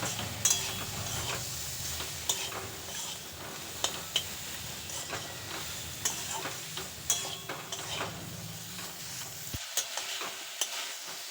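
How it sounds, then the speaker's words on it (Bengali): Mixed winter vegetables with ginger paste stirred and fried in a pan for a spinach dish, a soft continuous sizzle broken by regular light scrapes and taps of the spoon, with no talking. "এবার সব কিছুকে খুব ভালো করে মিশিয়ে নেব, যাতে সবজিগুলো সব কিছু ভালোভাবে ভাজা হয়ে গিয়ে ভালো করে সেদ্ধ হয়ে যায়"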